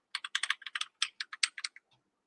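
Quick bursts of keystrokes on a computer keyboard, about fifteen crisp clicks in an uneven run that stops abruptly, close by and fairly quiet with no talk.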